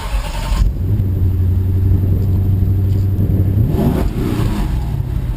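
A 2017 Volkswagen Golf SportWagen Alltrack idles with a low, steady engine hum heard from inside, then the engine note rises briefly as the car pulls away.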